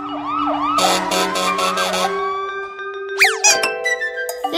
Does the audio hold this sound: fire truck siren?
yes